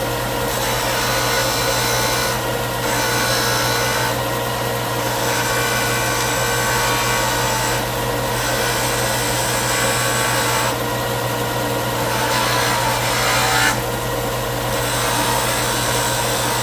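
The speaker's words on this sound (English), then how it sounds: "sander and cut a little chamfer, clean up the ends" A sander chamfers and deburrs the ends of metal rod at a lathe, giving a loud, steady motor drone with periodic harsher grinding surges as the rod ends meet the abrasive, running continuously without speech.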